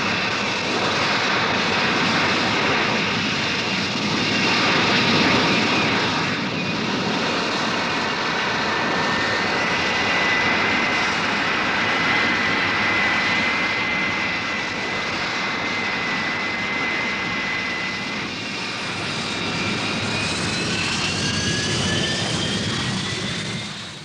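A Harrier jump jet's engine roars steadily and loudly in flight during 1970 test flying, a dense sustained rush with a high whining tone that shifts in pitch near the end, with no voices.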